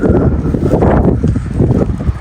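Strong wind blowing outdoors on a walk near a road, heavy low buffeting rumble against the microphone throughout, loud and continuous with no clear talk.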